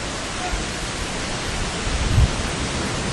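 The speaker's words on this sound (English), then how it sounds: "and to listen to the ocean" Ocean waves roll in as a steady broadband wash of surf, with one fuller surge breaking slightly closer about two-thirds of the way through, heard alone with no voices.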